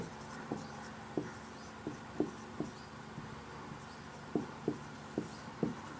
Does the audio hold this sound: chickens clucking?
no